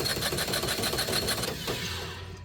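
An MEP802A generator engine is turned over on the dead crank after fresh oil and new filters, making a rapid, steady mechanical chatter. The chatter runs close and loud, then slows and fades near the end.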